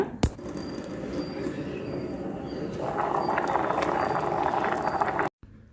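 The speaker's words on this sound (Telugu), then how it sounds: "2 నిమిషాల్లో మనకి బియ్యం ఉడకటం స్టార్ట్ అయిపోయిందండి" Rice boiling in water inside a Pigeon multi-purpose electric kettle, a steady close bubbling hiss that grows busier and louder partway through, then cuts off abruptly near the end.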